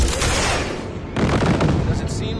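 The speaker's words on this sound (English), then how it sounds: "Just keep shooting at those rust buckets." Heavy rapid gunfire in a futuristic shooter game, a loud continuous burst of shots with booming impacts and no break.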